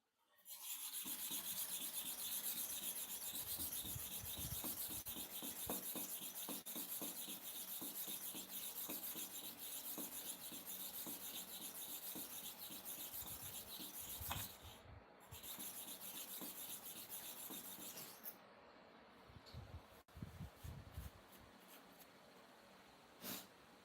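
A blade is drawn steadily across a sharpening stone, giving continuous close scraping and rasping strokes that run for most of the clip, then trail off into a few scattered scrapes near the end.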